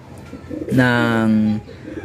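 Pigeons coo in a loft where squabs are being raised, one clear, close, sustained coo of under a second that rises and holds steady before fading back into quiet room noise.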